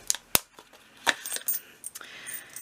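Several coins clinking and dropping one after another into a paper cash budgeting envelope, sharp close metallic chinks spaced irregularly, no talk.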